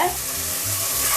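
Mint leaves dropped into hot oil for pulao, a brief loud continuous sizzle and crackle with a little stirring, close up.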